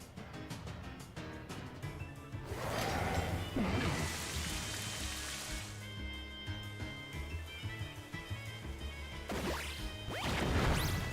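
Game rain from the Rain Dance move in Pokemon Scarlet and Violet patters softly over background music, with a swell of falling rain in the middle and whooshing effects near the end, all fairly faint.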